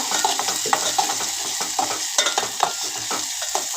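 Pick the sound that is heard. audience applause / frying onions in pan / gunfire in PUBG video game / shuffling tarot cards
frying onions in pan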